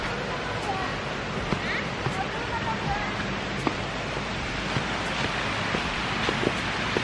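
Steady broadband rush of a river flowing through an autumn forest in Turkey, continuous and fairly close, with faint scattered ticks and no clear talk.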